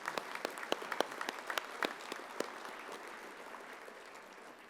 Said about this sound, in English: Join me in a big round of applause for these folks.